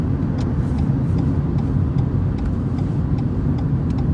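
Car accelerating during a lane change on a driving lesson, a steady loud engine and road rumble throughout with no talk over it.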